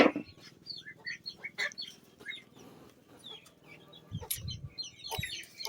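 Chickens cluck softly and intermittently nearby, with scattered chirps and a few rustling knocks, fairly quiet overall.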